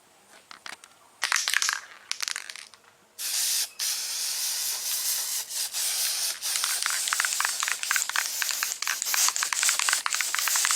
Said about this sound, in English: I'm gonna spray a guide coat on it, so when I block it, I find all my low areas